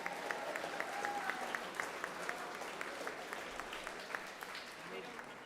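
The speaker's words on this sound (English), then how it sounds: "we get to applaud for you" At a FIRST Tech Challenge robotics qualifier tournament awards ceremony, an audience applauds steadily. The clapping is soft and fairly distant, with a few sharper individual claps that stand out from the wash.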